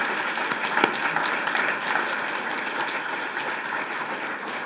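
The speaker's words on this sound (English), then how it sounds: "How about if we give them one more round of applause?" Applause from an evening event audience, a moderate wash of many hands clapping with a few sharper individual claps standing out, steady throughout.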